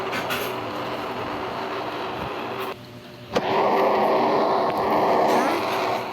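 An MRT-3 train in a train-driving video game rumbles steadily at close range, a continuous broadband roar that briefly drops away midway before surging back louder.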